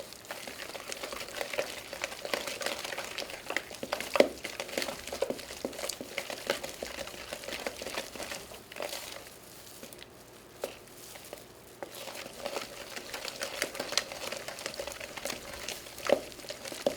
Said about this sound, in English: all you're doing is you're just mixing it together to make a nice gooey dough